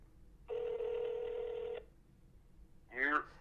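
A telephone call being placed on a podcast line: a single steady ring tone sounds for about a second, followed by a short burst of voice as someone answers.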